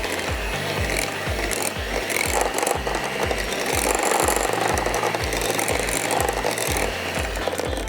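Frangipane almond paste with a splash of apple juice is worked in a bowl, giving a steady rhythmic scraping and knocking, repeating close and fairly loud with no talk over it.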